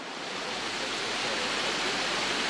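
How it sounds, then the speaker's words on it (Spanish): The Flumen river flowing beside a wetland: a steady, broadband rush of moving water, fairly close and unbroken throughout, with no voices. "Este de aquí es el río Flumen, exactamente, que es donde vierte el humedal que vamos a ver justo ahora."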